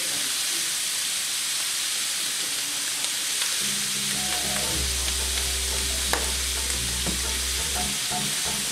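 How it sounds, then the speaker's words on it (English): Kielbasa with peppers and onion, sprinkled with steak seasoning rub, frying in a pan, a bright steady sizzle and hiss with occasional stirring clinks, plus a low hum building midway. "Mix it up."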